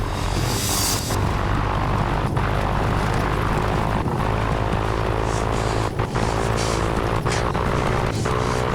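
A small airplane engine drones loudly and continuously through an aborted landing on snow in the Alaskan wilderness, with steady wind and engine roar throughout.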